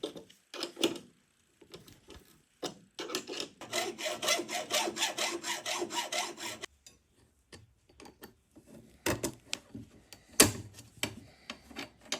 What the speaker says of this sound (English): Then cut the flat bar.